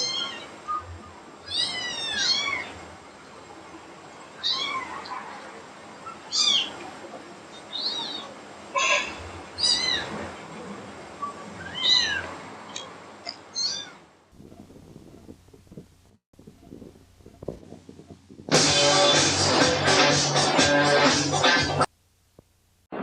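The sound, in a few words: cat meowing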